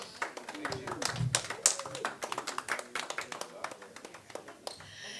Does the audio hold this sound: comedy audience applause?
yes